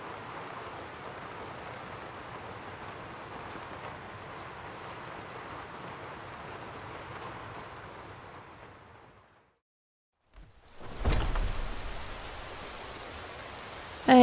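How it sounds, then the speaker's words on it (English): Steady rain from Skyrim patters down for several seconds, fades into a brief silence, then returns with a louder rushing wash of rainfall. "And it's still raining"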